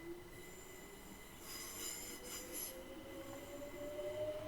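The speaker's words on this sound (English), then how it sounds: "the train again is rolling forward slowly, but that's just a game thing" A Class 455 electric multiple unit on the South West Main Line in Train Simulator Classic rolls slowly along the rails. Its wheels give a steady, faint squeal and hum, with a brief brighter screech partway through and no talk.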